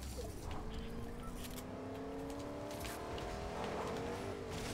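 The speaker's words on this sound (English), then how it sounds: "Just a car driving around now" A car in Fortnite drives about nearby, its engine whining and rising in pitch as it revs and accelerates, moderately loud beneath the ambient noise of the game.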